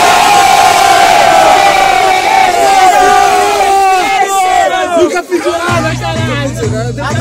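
A large crowd cheers and shouts loudly and continuously at a rap battle semifinal, roaring voices blending together, with scattered yells rising above the din near the end.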